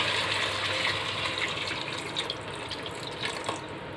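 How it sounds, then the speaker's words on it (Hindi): Water poured from a glass into a cooking pot of tinday and chicken gravy, a loud close continuous splashing pour that gradually eases toward the end. "मैं इसमें पानी ऐड करूँगी"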